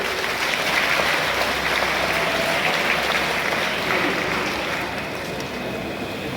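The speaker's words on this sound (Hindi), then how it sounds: "ताली बजाइए सस्पेक्ट के लिए।" Audience applause at an education seminar, steady dense clapping from a crowd that holds at full level throughout with no voices over it.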